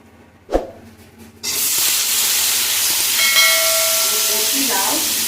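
Chopped bottle gourd drops into hot oil tempered with dried red chilli and panch phoron for lau chingri, a soft knock followed by an abrupt, loud, sustained sizzling hiss.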